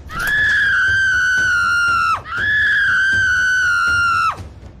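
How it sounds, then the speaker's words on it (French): Two long, loud screams from the neighbours' house in a Christian animated story about a witch nanny, each a sustained high wail of about two seconds, one after the other with a brief gap and no talk. "As-tu entendu ces cris chez les voisins?"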